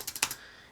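Keys on a late 2011 15-inch MacBook Pro keyboard clack in a quick burst of about five crisp taps, close and clear, then fade into quiet room tone.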